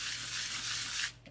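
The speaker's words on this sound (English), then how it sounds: "sanding paper and going over it" Coarse sandpaper rubbing over glossy scrapbook paper, a steady close scratchy hiss for about a second before stopping abruptly.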